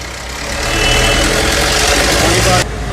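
An old pickup truck's diesel engine idles with a loud, knocking rumble, close and continuous, then drops in level near the end as a voice speaks briefly.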